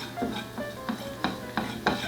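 A utensil stirs flour cooking in a pan for biscuits and gravy, with regular scraping strokes about every third of a second and soft clinks against the metal, close by with no talking.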